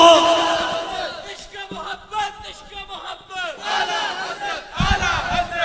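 A crowd at a religious gathering shouts back in unison in response to a slogan, loud bursts of massed voices rising and falling between pauses.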